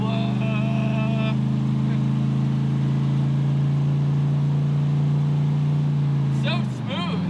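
A Chevrolet El Camino with a Z28 setup cruises along a road, its engine giving a steady, loud low drone throughout that shifts near the end as the car changes pace.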